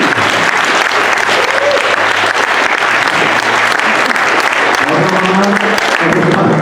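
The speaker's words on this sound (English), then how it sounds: "Big round of applause for him" Loud, continuous applause from an audience for the second-place winner, Paweł Kuliagowski, at a tabletop gaming event, with the clapping steady throughout and faint voices mixed in toward the end.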